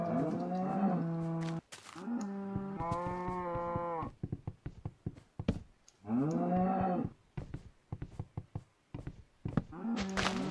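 Several Minecraft cows moo in turn, three drawn-out close calls separated by bursts of game thumps and clicks, loud and clear with no one speaking.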